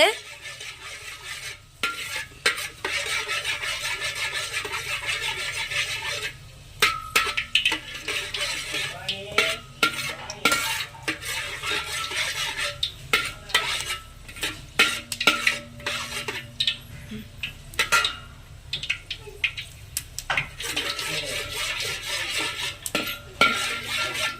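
A spoon scrapes and clinks against a pan in quick, irregular bursts while fenugreek seeds fry in oil for a fish curry, with a faint sizzle beneath the close, loud stirring.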